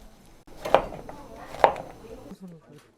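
A knife chops food on a cutting board during cooking of Goyang teolaegi, giving two sharp, distinct thuds against a quiet kitchen background, with soft talking nearby.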